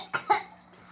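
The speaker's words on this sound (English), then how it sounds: "My son's just been coughing all morning." A child coughs twice in quick succession, close and fairly loud, each cough a short sharp burst, followed by quiet room tone.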